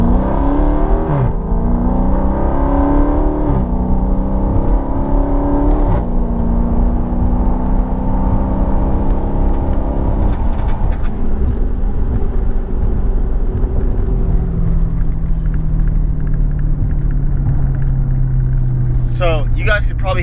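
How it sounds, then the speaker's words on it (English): A Dodge Charger in track mode accelerating hard through its gears, the engine note climbing and dropping with each upshift, loud and steady from inside the cabin, with a voice talking over it. "I'm going to do a quick little light pull, and I'm just going to show you guys that how quick it goes through these gears"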